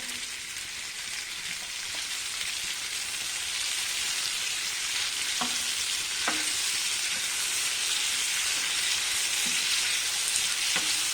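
Raw mango preserve sautés in a pan over a raised flame, a continuous close sizzle with scattered soft taps from stirring and no talking.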